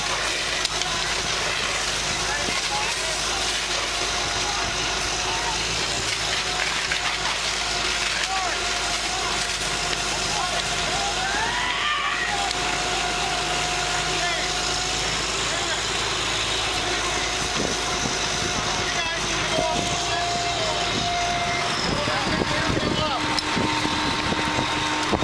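A firefighting deck gun, or master stream, sprays a powerful jet of water in a steady, loud broadband rush that runs throughout, with engine rumble beneath and occasional voices.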